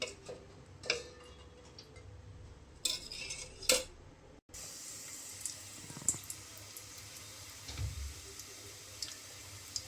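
A spoon clicks and ticks against a pot while oil is stirred for bagara rice, sparse light metallic taps over a low background hum.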